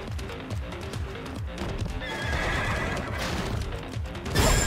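A horse in the video game Stellar Blade whinnies loudly over quick clip-clopping hooves and busy game sounds, ending in a sharp burst of noise.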